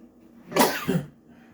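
A single sharp sneeze-like burst, close and fairly loud, with a short second puff right after, then quiet.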